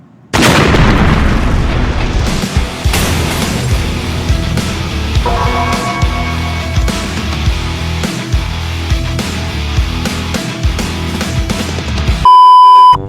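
Cartoonish explosion from a toilet blowing up in the Troll Face horror video game, a loud boom that opens the clip, followed by rumbling game music and effects, then a sharp electronic beep near the end.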